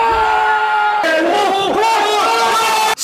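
Football supporters watching a Bundesliga match in a New York bar shout and cheer together, a loud, chanting roar with sustained voices that stays strong to the end.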